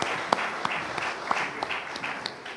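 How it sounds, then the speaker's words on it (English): A round of applause for the mentors at an Eagle Scout Court of Honor for Troop 7012, with scattered hand claps from a modest audience over a room murmur, fading toward the end. "Let's have one more round of applause for our mentors."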